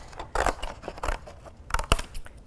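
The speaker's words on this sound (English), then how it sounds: "And now I can cut out my two circles together." Craft scissors cut through cardboard to make two stacked circles, a series of crunchy snips close by, irregular in rhythm, with louder bites near the start and toward the end.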